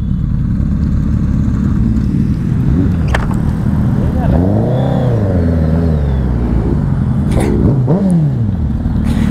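BMW R1250 GSA Anniversary Edition motorcycle ridden in Bangalore, a steady low engine rumble with wind noise and a couple of rising revs as it accelerates, with a voice talking over it.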